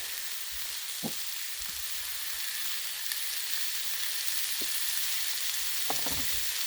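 Hot dogs fry in oil on a properly seasoned griddle, giving a continuous close sizzle with a few sharper pops and crackles scattered through it.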